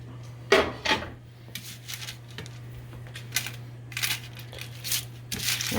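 A spatula scraping a sticky cereal treat mixture out of a pan, with repeated rough scrapes and soft thuds coming in bursts, close and fairly loud over a steady low hum.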